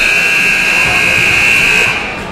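Loud, sustained electronic horn buzzer at a high school basketball game on senior night, sounding steadily for about two seconds to end the half before fading, with crowd and commentary noise beneath it.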